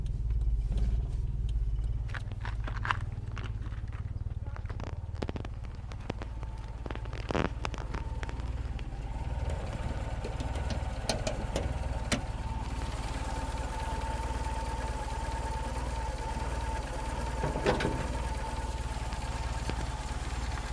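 A 1993 Toyota Corona petrol engine idles under the bonnet, a steady low rumble with a faint mid-range whine, continuous and close, with a few light clicks and handling noises over it.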